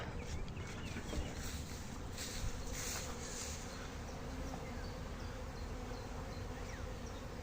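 Honeybees fly around a hive, a dense, continuous buzzing swarm that stays close and loud throughout with no voices.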